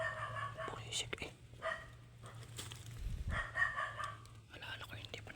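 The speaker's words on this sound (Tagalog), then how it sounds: "Lintik na aso ito." A dog barks sporadically nearby while roosters tussle outdoors, short yelps breaking through low murmured voices and rustling, with a faint crow in the background.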